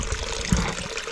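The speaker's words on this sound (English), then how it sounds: "Tube comes out and then spits out right there." Water spits from a pump tube into an aquaponics tank, a steady close trickle and splash with one brief louder gush partway through.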